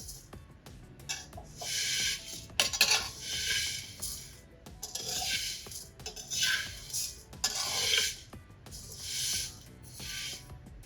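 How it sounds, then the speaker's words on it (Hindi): Vermicelli is stirred and roasted in desi ghee in a pan over medium heat, with repeated scraping and rubbing strokes coming in bursts, close and fairly quiet, and no talking. "मीडियम आंच पे आप इसको भूनेंगे। इसको भूनते वक्त आपने मुसलसल इसको हिलाते रहना है।"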